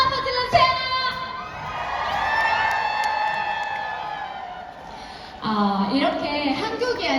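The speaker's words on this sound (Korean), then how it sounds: "자, 박수 한번 질러주세요" Large convention crowd of about 4,500 people cheering loudly, with high whoops and shouting swelling in the middle, then a fresh burst of cheering and clapping near the end, loud and close.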